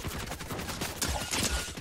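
A gun fires in the game Fortnite as a quick burst of rapid, crackling shots. The rattle is fairly close but modest in level, with the heaviest shots clustered near the end.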